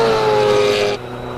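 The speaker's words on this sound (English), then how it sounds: "Now you can hear that Ferrari." A classic Ferrari racing up the Simola hill climb gives a loud, close engine roar with a sustained tone that suddenly falls away to a quieter drone about two thirds through.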